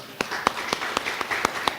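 A sparse round of audience applause after a speech by an architect at a BUILDesign Magazine event, with individual claps landing in a slow, regular pulse over a soft room hum, fairly faint and without talk.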